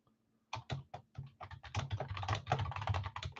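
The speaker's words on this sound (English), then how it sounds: "There's that still angry typing." Someone types hard and fast on a computer keyboard, with a dense, uneven clatter of keystrokes close by and no voices.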